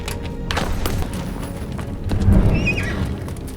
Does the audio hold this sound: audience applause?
no